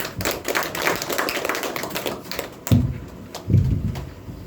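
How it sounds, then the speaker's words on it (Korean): An audience at a senior academy lecture gives a dense burst of applause to welcome the speaker, then the clapping breaks off into a few heavy thumps close by. "큰 박수로 맞아주시기 바랍니다"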